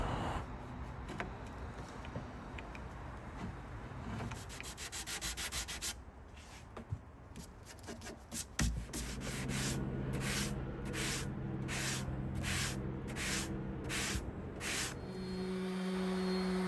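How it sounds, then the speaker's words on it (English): Sandpaper of 150 to 220 grit rubs across a wooden mid-century furniture piece, a continuous close scratchy hiss that settles into a regular back-and-forth rhythm of strokes in the second half. "I then sanded the whole piece with 150 to 220"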